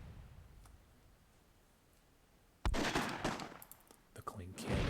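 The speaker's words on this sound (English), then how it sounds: "it looks like the cannon has focused its fire on Val Kilmer." Cannon fire in the strategy game Myth II Soulblighter on a WWII-themed map breaks out after quiet ambience as a loud cluster of booming, crackling blasts, with battle noise continuing.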